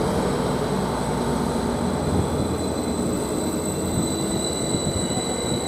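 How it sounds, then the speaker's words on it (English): A diesel passenger train bound for Norwich pulls out of Ely station, a steady loud rumble and drone with a high whine above it, continuous throughout with no voices. "Now the train to Norwich from Stansted Airport, the 1436 service is just now departing."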